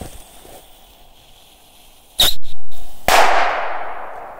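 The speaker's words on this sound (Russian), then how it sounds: "посмотрим, что это за ракетки и как они взрываются" A sharp whooshing burst followed by a loud crack, then a second hissing burst that fades away, as small firework rockets launch and pop nearby.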